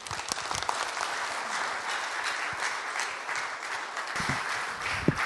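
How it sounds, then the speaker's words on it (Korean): Audience applause after a lecture at a CEO forum, a dense, steady clapping from a large crowd lasting several seconds with no talking over it. "다시 한번 큰 박수 부탁드리겠습니다"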